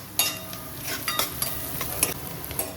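Food is sautéed in a pan until brownish for a spicy Kannada home-style rajma chawal and flavour rice dish. Steady close sizzling runs under repeated scraping strokes of a spoon stirring against the pan, with no talking.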